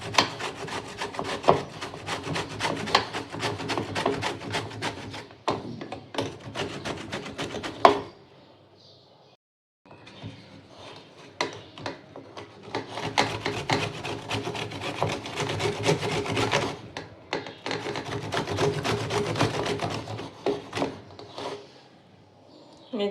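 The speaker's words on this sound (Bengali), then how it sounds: "এগুলা গ্রেটার দিয়ে ভালোভাবে গ্রেট করে নিব।" Guavas are scraped across a hand grater into a large bowl, producing rapid, rhythmic rasping strokes close by, broken by a short pause before the grating resumes in steady runs.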